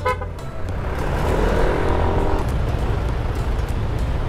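Heavy road traffic, heard from a rider on a Yamaha NMAX 155 scooter: a loud, steady wash of engine and tire noise with a short horn toot near the start.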